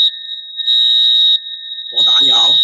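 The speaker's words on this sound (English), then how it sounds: "The fire alarm is going off." Fire alarm in an apartment building sounding a loud, steady high-pitched electronic tone that briefly dips, then continues as someone talks over it.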